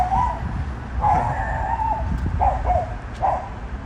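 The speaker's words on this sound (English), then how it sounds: "There's the dog." A leashed dog waiting outside a shop on a quiet St. Petersburg street barks in several short bursts at moderate distance over low traffic and outdoor ambience.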